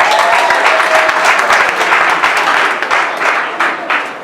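An audience at a local government handover ceremony in Ohafia claps loudly and close, a dense burst of applause that gradually tapers toward the end.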